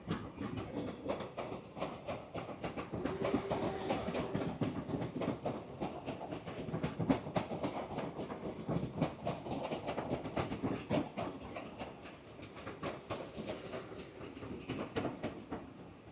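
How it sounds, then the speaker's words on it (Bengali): An AC local train on the Sealdah–Ranaghat line pulls slowly out of Kalyani station. A continuous rumble of rolling wheels is overlaid with steady clickety-clack rail clatter, heard from on board. "নিজেই দেখতে পাচ্ছ ট্রেনটা কিন্তু কল্যাণী স্টেশন ছেড়ে এগিয়ে যাচ্ছে আস্তে আস্তে করে"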